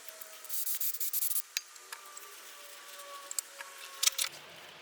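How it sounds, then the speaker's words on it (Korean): A scooter's brake disc is sanded by hand with 600-grit sandpaper in circular strokes, giving soft, quiet rhythmic rubbing bursts with a few sharper scrapes near the end. "브레이크 디스크는 600방 사포로 원형 방향으로 연마합니다."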